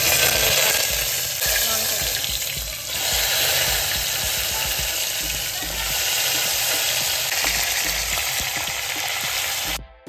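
Turmeric hits hot oil for a stuffed brinjal curry, raising a loud, dense, continuous sizzle that swells and eases slightly before cutting off abruptly at the end.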